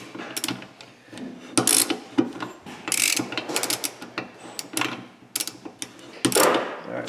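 Someone works a socket ratchet while driving a part into the housing of a Chevrolet front differential, giving bursts of close, dry clicking and metallic rattles in irregular spurts.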